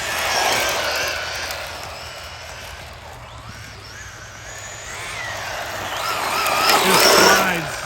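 An ARRMA Infraction 3S BLX brushless RC car drives and drifts, its electric motor whining and rising in pitch as it slides past outdoors, with tires hissing on the surface.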